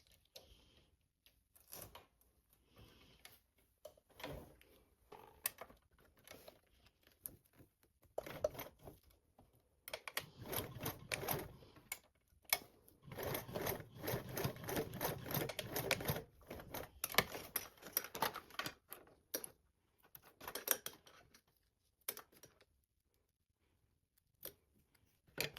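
A sewing machine stitches webbing for a detachable bag strap in quick rattling bursts, short at first, then a longer steady run of stitching before stopping, close and fairly quiet.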